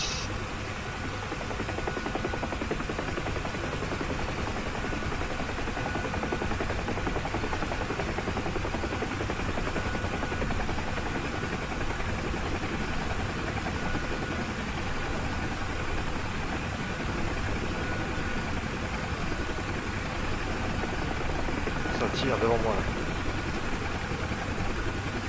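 Steady, droning rotor and turbine hum of a UH-1H Huey helicopter in a flight simulator, continuous and even in level for the whole stretch with no talk over it.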